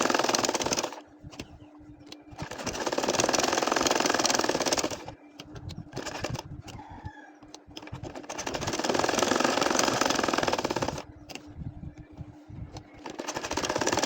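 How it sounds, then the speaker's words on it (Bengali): An ordinary sewing machine stitches a nakshi kantha quilt in loud, close whirring runs of several seconds, separated by short pauses as the fabric is turned. "এখন দেখেন এইটা আমি ঘুরিয়ে ঘুরিয়ে মানে ফুলটা করে নিচ্ছি এইভাবে আমি সেলাইটা করে নিব সব জায়গায়"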